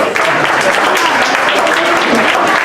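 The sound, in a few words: audience applause at a gala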